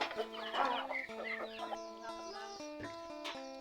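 A rooster on a rural farm clucks in a quick series of close, clear calls with a brief crow-like rise, fairly faint overall and with no talking.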